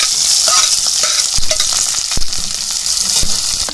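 Chopped small onions sizzling in hot oil in a pan, a steady close fry with a few sharp stirring clatters of a utensil against the pan.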